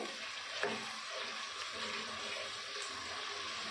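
Quiet, steady sizzling of onion and garlic frying in oil for chicken curry, with a brief scrape of stirring near the start.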